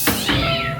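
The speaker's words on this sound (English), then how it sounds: "there's cats jumping out here" An animatronic cat in a haunted hotel display lets out a loud, close, harsh meow with a brief snarling lead-in, short and sharp, without talk over it.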